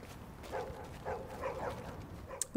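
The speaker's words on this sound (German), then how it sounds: "Wuff, wuff." A dog barks in the video game The Division, several muffled, moderately faint woofs spaced about half a second apart over steady game ambience.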